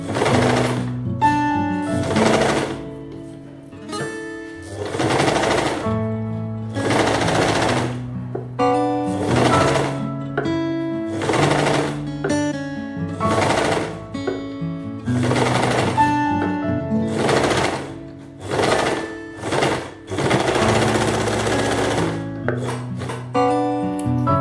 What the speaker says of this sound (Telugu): ఈ ఎడ్జ్ లో ఒక కుట్టు వేయండి వేసిన తర్వాత తిప్పుదాం